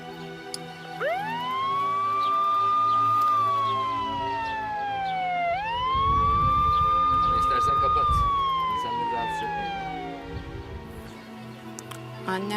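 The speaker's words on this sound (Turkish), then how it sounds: "Siren var mı? Var. Çalıştır bakalım." A police-style siren wails up and down twice, loud and close, its rising and falling tone sweeping over a low engine rumble.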